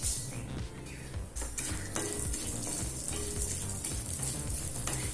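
Basmati rice roasts in ghee in a kadai with a steady sizzle, while a spoon scrapes and stirs against the pan in irregular strokes, close and moderately loud.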